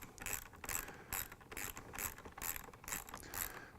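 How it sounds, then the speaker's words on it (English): A hand ratchet drives a bolt through a clevis on a Corvette C5 seat, a rapid, even run of close clicking bursts repeating about every half second. "Keep running that bolt in just like I'm doing"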